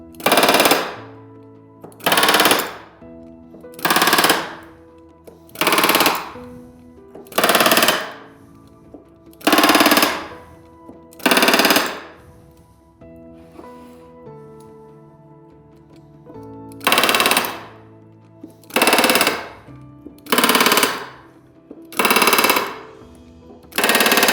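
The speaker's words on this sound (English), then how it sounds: "I'm going to go back through and hit the remaining rivets." A pneumatic rivet gun setting rivets on RV-10 aircraft ailerons fires in a series of loud, close bursts of about a second each, separated by short pauses, with a longer gap midway.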